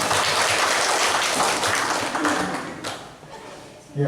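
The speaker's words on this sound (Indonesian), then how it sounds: "Tepuk tangan buat Bapak Ibu guru semua." Applause from a school audience for the teachers, a dense, steady wash of clapping that stays loud throughout, with some voices mixed in and a slight dip before a burst at the end.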